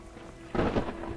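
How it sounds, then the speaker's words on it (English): Thunder rumbles with steady rain during a storm in the virtual reality game Skyrim VR, a broad low roll swelling loudly about halfway through over a constant background hiss. "Oh, thunderstorm. That's kind of cool."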